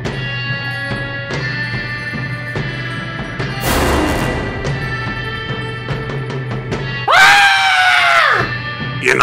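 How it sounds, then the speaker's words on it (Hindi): A boy screaming at night in the horror video game Granny, a loud sustained shriek that rises sharply near the end over game music and effects, with an earlier burst of noise midway. "ये ना समझ लड़का इतनी रात को क्यों चिल्ला रहा है"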